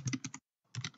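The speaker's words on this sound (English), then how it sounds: "I just came over to the search bar and I typed in a sunflower" Quick clattering keystrokes on a computer keyboard while a search term is typed, a close burst of taps, a brief pause, then another burst.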